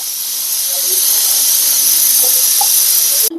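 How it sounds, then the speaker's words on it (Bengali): Steam jets hard out of a pressure cooker's whistle while beef cooks, a loud unbroken hiss lasting several seconds before it abruptly cuts off. "এদিকে প্রেশার কুকারে প্রায় তিন সিটি দিয়ে দিয়েছে"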